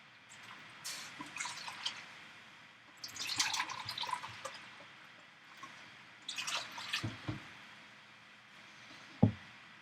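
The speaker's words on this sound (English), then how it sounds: "Then I want to add 4 cups of water." Water goes from a cup into a soup pot of French Canadian pea soup with chicken stock in several separate splashy, trickling pours with gaps between them, faint and close, ending with a small knock, and nobody talks.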